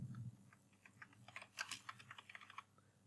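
Fingers typing on a computer keyboard, a quick burst of soft, close key clicks in an uneven rhythm, preceded by a faint low thump.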